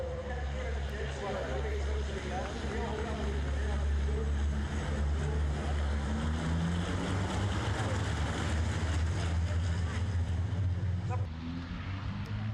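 European Truck Racing Championship trucks starting race 1 at the Nogaro circuit, heard from the spectators' grandstand as a dense, continuous engine roar with rising revs and wind under it.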